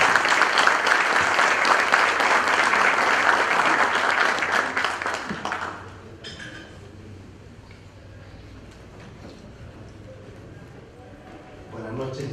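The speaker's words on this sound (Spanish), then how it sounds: "Vamos a recibir con un fuerte aplauso a nuestro decano." An audience in a hall applauds the dean at the 50th anniversary inauguration of the Lima notaries' association, a loud burst of clapping for about five seconds that fades into quiet room sound and murmurs.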